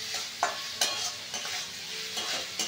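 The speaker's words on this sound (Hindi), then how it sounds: "मिक्स करके पकाया जा रहा है, यानी फ्राई किया जा रहा है।" Vegetables for veg Manchurian sizzle steadily in a hot pan while a spatula scrapes and stirs them at a slow, regular pace, loud and close, with no voices.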